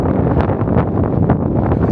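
Strong wind buffets the microphone on a moorland hill in the North York Moors near the Wainstones, a loud, continuous low roar with gusty surges throughout.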